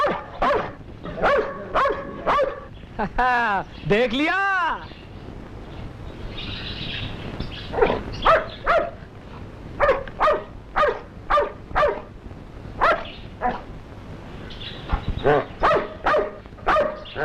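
A dog barks repeatedly in short, sharp bursts, with a few howling, whining calls partway through; the barking is close and loud.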